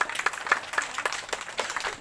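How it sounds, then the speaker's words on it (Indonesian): An audience in a hall claps in an uneven patter of individual hand claps, moderately close and steady for a couple of seconds. "tepuk tangan"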